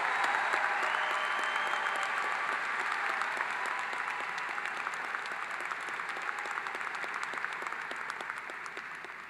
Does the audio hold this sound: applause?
yes